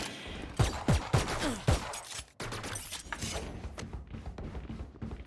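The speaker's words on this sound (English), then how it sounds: "Just getting fried by a turret, bro." Automated turret in a Valorant-style tactical shooter firing bursts of rapid shots, loud sharp cracks clustered in the first two seconds, then scattered impacts and softer rattling over a busy game mix.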